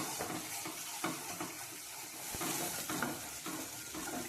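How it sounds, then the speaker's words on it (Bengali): Ginger-garlic paste frying in a pan for coriander rohu fish curry, a dense, hissy sizzle with faint periodic stirring scrapes throughout; quiet and continuous, with no one speaking. "আদা রসুন পেস্ট আমি দিয়ে দেব এবার খুব ভালো করে নাড়তে হবে"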